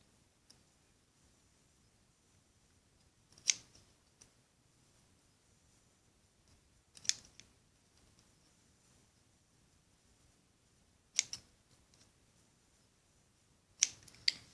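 Scissors snip Rainbow Loom rubber bands in four sharp, isolated clicks spaced a few seconds apart, close and crisp against near silence.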